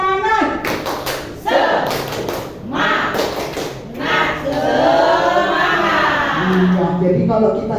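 A school group at an Indonesian elementary school, SDN Sunterjaya 03, performs the rhythmic 'tepuk semangat' spirit clap: sharp clap patterns in bursts, with crowd voices and children mixed in.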